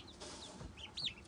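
White turkeys, two males and three females just arrived by mail, give soft, close clucks and a couple of brighter chirping calls near the end, with no talk.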